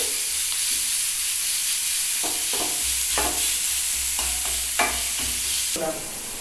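Cabbage for a vegetable momo filling is stir-fried in a hot pan, a steady close sizzle and hiss with repeated scraping stirs of the spatula, loud and continuous with no voices.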